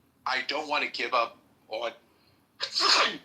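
A loud sneeze bursts out near the end, right after a stretch of someone talking in a podcast conversation.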